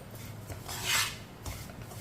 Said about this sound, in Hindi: अब इसे चम्मच चलाते हुए हल्का सा ब्राउन कर लेंगे